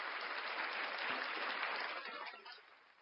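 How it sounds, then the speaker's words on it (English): A round of applause for a group of nominees on a podcast: dense, steady clapping that fills the whole stretch, then thins and fades toward the end. "Round of applause for all those nominees"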